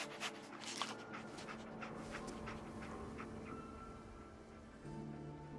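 A dog companion in the video game Fallout 4 pants quietly and rhythmically at close range, set against a low game ambience.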